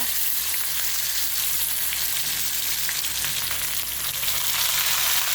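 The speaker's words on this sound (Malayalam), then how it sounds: "സവാള അരിഞ്ഞ് വെച്ചിടുക" Chopped onion sizzles steadily in hot oil in a pan, with a loud, continuous frying hiss and occasional crackles, and no voices.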